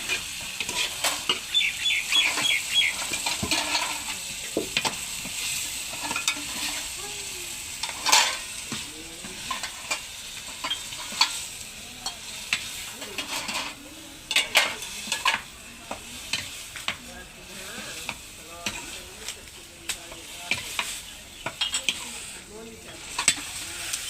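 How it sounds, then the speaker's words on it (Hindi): Spices sizzling and frying in hot oil as a tempering for mustard greens (sarson ka saag), with a spoon stirring and scraping the pan now and then; steady crackle, close by. "और तड़का लगा रहा है जी। मिसाला भुन चुका है।"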